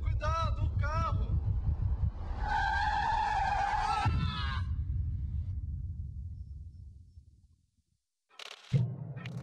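A car skids in a zombie short film, with a loud rumbling engine and a long screeching tire squeal, a shout over the noise, then a fade to near silence before a sudden heavy thump.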